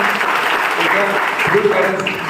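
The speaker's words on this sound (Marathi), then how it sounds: "टाळ्या वाजवाव्यात आपण सर्वांनी" Audience at a building inauguration ceremony for a school and hostel applauds steadily, a dense continuous wash of clapping from a large crowd that holds at full strength throughout.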